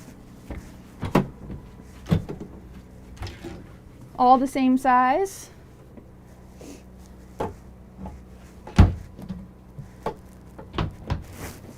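Drawers in the bedroom of a Jayco Greyhawk RV slide open and shut, with repeated soft knocks and thuds, a brief rattling scrape in the middle, and a short spoken remark between the sounds.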